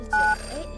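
A telephone in the horror game Bad Dream: Coma gives a single short electronic ring, clear and close, against quiet game ambience.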